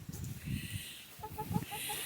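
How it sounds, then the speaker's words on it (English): A homestead rooster crows near a chicken coop, a couple of short crowing bursts with faint clucking, fairly quiet in the background with no talk over it. "Oh, yep, that rooster's telling me."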